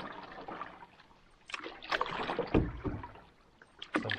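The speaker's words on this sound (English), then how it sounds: "I'll just be paddling up into Saganaga through the bay here." A canoe is paddled through a bay in the Boundary Waters in autumn, with soft, irregular paddle strokes, splashes and water trickles heard close by and fairly quiet.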